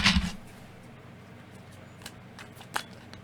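Tarot cards shuffled by hand, a quick riffling burst at the start followed by soft faint card slides and a couple of small taps in a quiet room.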